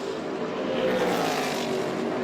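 A damaged NASCAR stock car engine drones with a flat, rough, broadband roar at steady loudness, continuous and fairly close, with no voices over it.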